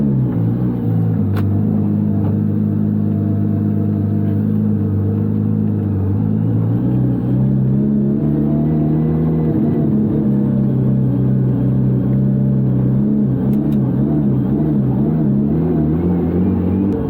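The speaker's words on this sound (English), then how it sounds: "this is like the most scariest car I've ever driven" A Nissan GT-R R35 drag car with over 1000 hp, cruising slowly inside the cabin, its engine giving a loud, steady low rumble with gentle shifts in pitch as it is driven easily, with no talking.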